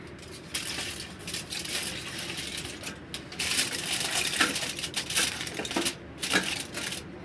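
Foil paper being pressed and crinkled over a bowl of malai kulfi ice cream, close crackling and crumpling rustles in irregular bursts across the whole stretch, with no talk.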